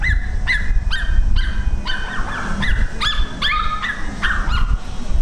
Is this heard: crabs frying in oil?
no